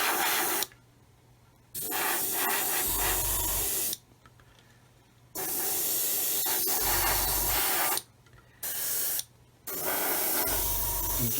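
Clear coat sprayed from an airbrush or spray can over a 1/144 Roden C-141B Starlifter model aircraft, several loud hissing bursts of one to two seconds each, separated by short pauses.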